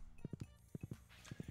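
Horse hooves clip-clop in the Stardew Valley video game, a quick steady trot of crisp paired knocks, fairly quiet and alone.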